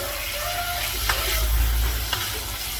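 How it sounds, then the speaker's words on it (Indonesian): Papaya flowers, papaya leaves and fern being stir-fried together in a pan, with a steady close sizzle under scraping and stirring sounds, with a couple of sharp clinks of the utensil. "Sekaligus kita tumis"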